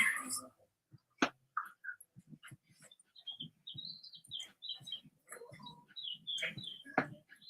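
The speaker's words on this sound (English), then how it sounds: "Birds are chirping." Birds chirp and tweet outdoors in short, scattered bursts, faint and somewhat distant, alongside light handling noises and a few soft sounds from indoors.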